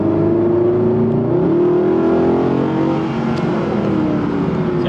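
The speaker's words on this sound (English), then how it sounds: "you really hear that V8 rumble" The V8 engine of a 2011 Mercedes SLS AMG Gullwing revs as the car accelerates. Its loud, continuous rumble climbs in pitch partway through, then settles into a steady roar with no talking.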